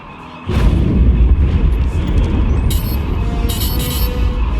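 A sudden deep boom gives way to heavy sustained rumbling, like spaceship cannon fire in a video game space battle, with sharp crackling bursts later on.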